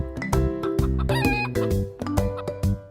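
A hen clucks loudly and close up in a rapid series of choppy, pulsing calls, with some higher crowing-like notes mixed in.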